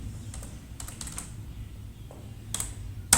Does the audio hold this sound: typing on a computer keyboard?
yes